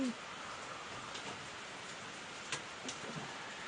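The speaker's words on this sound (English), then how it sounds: "It's raining like crazy." Heavy rain falls outside, heard as a soft, steady wash of hiss with a few faint ticks of drops, somewhat muffled as if from indoors.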